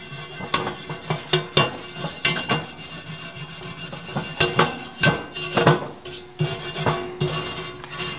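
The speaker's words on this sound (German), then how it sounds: "Wir rauen das jetzt auf, versuchen ein Stück von der Oberfläche runter zu schmürgeln" Rust being scrubbed and sanded off a porous cast iron Dutch oven, a close, loud rasping rub in repeated strokes with scraping metallic accents, uneven rhythm, no talking.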